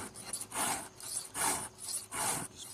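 Hand file sharpening a chainsaw chain, four firm rasping swipes in an even rhythm with short pauses between them, close up and without talk.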